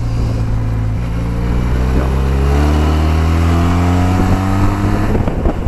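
Benelli TRK 502 motorcycle accelerating, a loud, close engine drone rising steadily in pitch through the gears, with wind rush over it.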